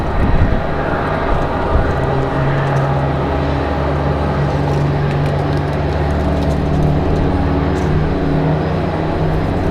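Copa Airlines airliner touching down at Raleigh-Durham International Airport, a steady, loud jet roar with a low rumbling drone that holds evenly throughout, no speech over it.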